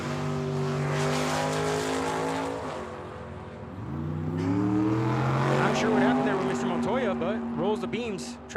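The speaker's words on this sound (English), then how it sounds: "I believe that is Mr. Montoya on the right-hand side, in that Pontiac" A Pontiac drag race car revs hard at the line, then launches with a roaring, rising engine note that pulls away down the strip at Tucson Dragway, an announcer talking over it.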